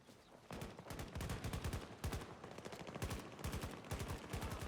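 Rapid automatic gunfire from the video game Battlefield 2042 plays mobile through cloud gaming, dense bursts of shots repeating steadily and loud across the clip with no speech.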